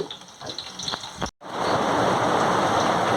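Crushed garlic hits hot oil for a tempering and breaks into a loud, continuous sizzle after a brief cut, following quieter crackling from the pan.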